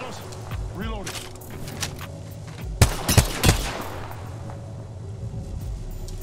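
A G7 Scout rifle fires in a quick cluster of sharp shots in Apex Legends during an ALGS qualifier match, heard amid game rumble and effects while players talk over comms.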